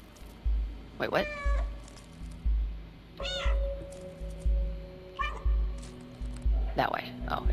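Cat meowing in the video game Stray, several distinct drawn-out meows spaced across the clip over a steady low game soundtrack with footsteps or thumps.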